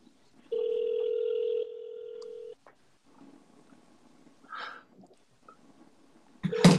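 Outgoing telephone call with a ringback tone: a steady electronic tone sounds twice, followed by quieter background noise while the call waits for an answer, then a loud clatter at the end.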